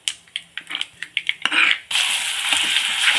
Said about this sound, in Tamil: இப்போ நல்லா இதை எண்ணெயில் வதக்கணுங்க, அதுதான் வேலை.